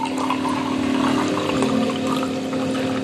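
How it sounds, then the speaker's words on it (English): Steady running water, dense and continuous at close range, flowing or pouring without pause and with no voices over it. "The sound of water is music to the ears of Jörg Martin Rieser."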